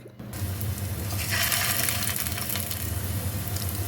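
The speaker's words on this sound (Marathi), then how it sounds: "आता आपण जे स्टार्टर्स आपण बनवले आहेत ते आपण त्यामध्ये टाकायचे आहेत" Dried shrimp (jawla) starters coated in cornflour dropped into hot oil, setting off a loud, steady sizzle that swells after a moment and keeps frying close up, with no talking.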